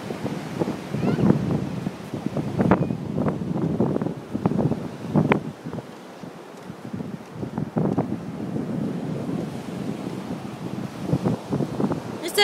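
Gusty wind buffets the microphone continuously, with muffled voices and faint surf in the background.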